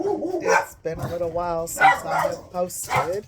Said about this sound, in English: I'm sorry about the dogs barking